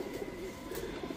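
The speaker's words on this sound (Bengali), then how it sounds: "দেখেন খুব সুন্দর চান্দিলাল পেয়ার একটা কবুতর" Chandilal pigeons, a breed kept for flying, coo steadily and softly at close range in a low, rolling, continuous murmur with no talking.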